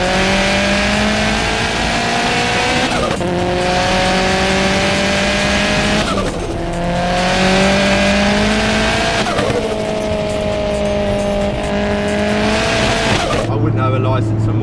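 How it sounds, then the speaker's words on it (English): A loud 500hp Vauxhall Astra VXR turbo engine revs hard on a launch and accelerates, the pitch climbing then dropping at each of several gear changes, with tires squealing. "I'm just going to do a little launch for you guys"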